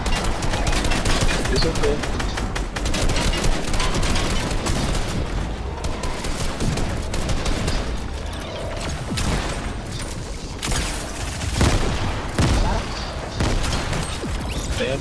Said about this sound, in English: They're out there shooting at each other.